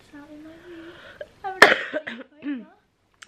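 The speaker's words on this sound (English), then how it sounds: "excuse the coughing there" A single sharp cough bursts out in a home in the evening, sandwiched between stretches of a person speaking, close and fairly loud against otherwise quiet surroundings.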